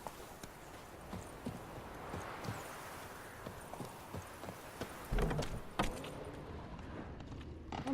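Horse hooves clip-clop at a steady trot in The Witcher 3: Wild Hunt video game, a rhythmic run of clear hoof beats with a louder clatter near the end.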